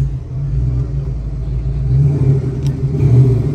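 Ford Mustang GT engine at a cars-and-coffee meet, a steady deep rumble that swells as the throttle rises, loud and close with crowd noise around it.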